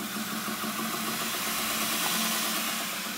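A small 230V single-phase belt sander motor with speed control runs steadily, a constant close hum with a broad whirring hiss and no pauses.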